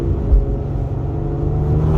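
Ford EcoBoost car fitted with catless downpipes, its exhaust giving a steady low rumble and drone that swells slightly toward the end, close by with no talking.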